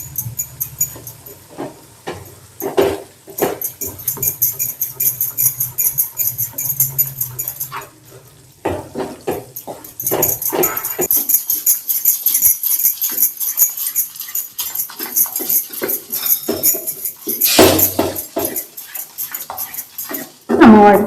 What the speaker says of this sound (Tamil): இப்போ கைவிடாம கிளறிட்டே இருங்க.